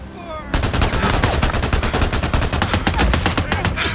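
Rapid, loud sniper rifle fire in the Days Gone video game, a dense string of sharp cracks starting half a second in after a quiet lead-in and continuing without a break to the end.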